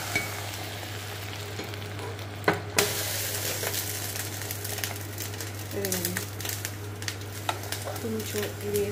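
Food fries in a pan while being stirred, giving a steady sizzle with occasional scrapes and rustles. A voice talks over it.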